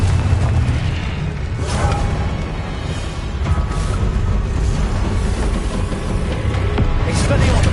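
Confringo spell explosions in the Hogwarts Legacy video game, a steady, loud, dense rumble of booming blasts with brief swooshing bursts, running continuously with no pause.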